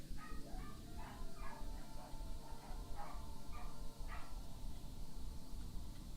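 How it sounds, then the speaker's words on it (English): Several dogs barking in high-pitched, rapid yaps indoors, a string of sharp barks and whimpers repeating for several seconds over a steady low background hum, faint and somewhat distant. "some nice high-pitched barking from my dogs who are going insane because my mom's back"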